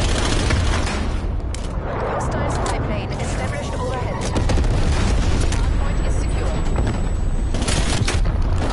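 A napalm strike in the Call of Duty Cold War video game, a sustained, loud rumbling roar of fiery explosions and crackling bursts that swells partway through, with a voice talking over it.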